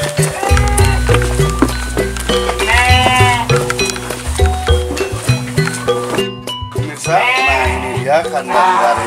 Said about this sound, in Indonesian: bagaimana sih aktivitas Kang Asep dalam memelihara kambing-kambing atau domba